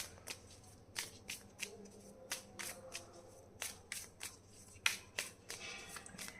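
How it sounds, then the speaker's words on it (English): Tarot cards handled and drawn from a deck during a reading: a run of quiet, crisp card flicks and shuffling snaps in an irregular rhythm, close up and soft, with no talking. "I will take one more card from the guidance from the angels"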